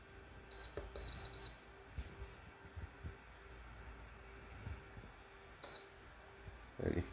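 Control buttons on a FLANUR 1500W indoor space heater, a handful of short, sharp electronic beeps, some in quick pairs and triples, over a quiet hum with faint handling clicks.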